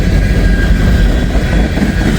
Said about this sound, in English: Got a good train right here.